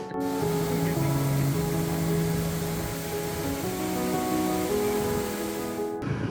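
Charpa waterfall on a monsoon forest route between Athirappilly and Valparai gives a loud, constant rush of falling water that fills the whole stretch without a break.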